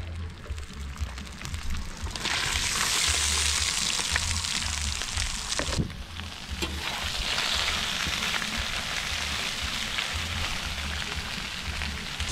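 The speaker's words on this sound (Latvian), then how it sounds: "Nu ko, apcepam arī sīpols." Onions hit a hot pan for plov, after meat has been browned, and break into a loud, steady sizzle that holds close and constant for the rest of the stretch.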